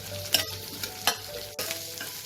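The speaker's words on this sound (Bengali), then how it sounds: "এই পেঁয়াজ কুচিটাও আমি ভেজে নেব তেলে।" Chopped onion frying in oil for a flat bean mash, a steady close sizzle broken by a few sharp scrapes and clicks of stirring, with no voices.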